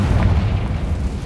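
A spell explosion from Hogwarts Legacy, the Confringo fire blast, rumbles as a steady, deep, roaring boom that stays loud and unbroken throughout.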